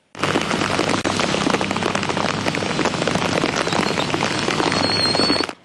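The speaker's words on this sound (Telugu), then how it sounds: "అర్ధరాత్రి వరకు వర్షం కురుస్తూనే ఉండడంతో ప్రధాన రహదారులన్నీ నీటితో నిండిపోయాయి" Heavy rain pours down in Hyderabad in a dense, constant roar, loud and close, drumming steadily on surfaces throughout, with main roads flooded.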